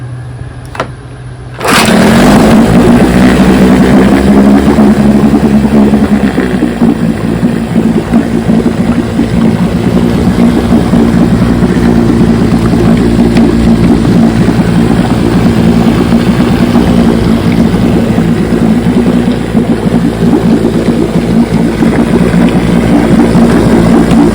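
A vintage Johnson 9.5 HP outboard motor fires up in a test barrel after a short quiet moment, then runs loud and steady with a continuous droning rumble for the rest of the clip.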